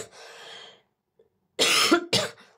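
Two loud, close coughs burst out one after the other, preceded by a softer breathy rasp and a short silence.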